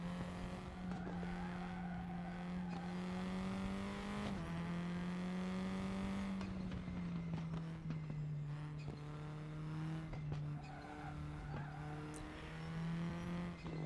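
Race car in RaceRoom Racing Experience, engine droning loud and steady at sustained revs with shifting harmonics and brief gear changes, tyres squealing through corners, continuous and close with no voices.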